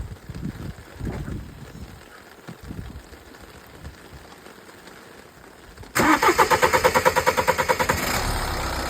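After a few seconds of quiet workshop shuffling, a Toyota RAV4 D-4D 2.0 diesel engine cranks in a rapid pulsing burst, then catches and settles into a loud, steady idle close by.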